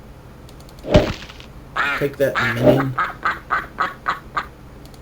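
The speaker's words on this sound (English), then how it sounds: "That ducky sound would in fact be the goose what laid the golden egg." A goose in the video game Legends of Kesmai gives a run of short, nasal, quack-like honks in a steady rhythm, right after someone speaks and a sharp hit sounds.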